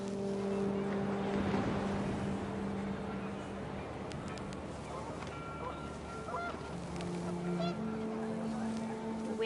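Panicked geese honking in the video game What Remains of Edith Finch, several overlapping calls over gusting wind and a dense rumbling background, moderately loud and continuous.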